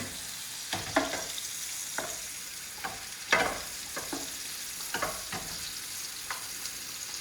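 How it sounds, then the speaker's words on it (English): Flour-dusted seafood sears gently in a hot pan for a cioppino, a steady soft sizzle broken by several sharp spits and pops, the loudest near the middle, close up with no talking. "I don't want a hard sear, otherwise I'm going to overcook it. I want a nice soft sear."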